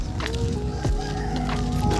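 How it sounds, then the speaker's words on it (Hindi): A free-roaming chicken clucks repeatedly by a rural roadside in Karnataka, its short calls loud and close over a steady outdoor background. "और ये देखिए, हमें रास्ते में मिली चक्की चैन की मुर्गी।"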